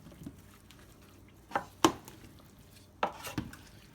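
Hot roasted vegetables tossed with melted coconut oil in a pan scrape and clatter in a few distinct bursts, with soft, wet shuffling sounds between them and no voices.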